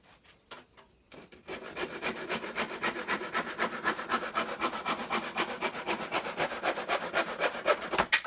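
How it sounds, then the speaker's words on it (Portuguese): A hand saw cuts a piece of wood during a workshop on building musical instruments. A few tentative strokes start it off, then dozens of quick, even back-and-forth rasping strokes follow, close and steady, with no talking. "Serrote."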